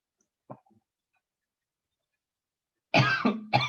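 A person coughs: one faint cough, then after a quiet pause two loud, close coughs with some throat clearing.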